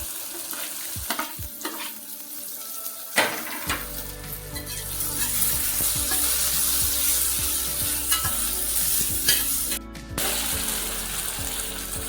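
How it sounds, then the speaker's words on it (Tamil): Chopped capsicum and tomato sizzle steadily in a hot pan, the frying hiss swelling loudly after fresh vegetables go in, with spatula scrapes and stirring knocks throughout. "இப்போ வெட்டி வச்சு குடமிளகாய் சேர்த்துக்கலாம்"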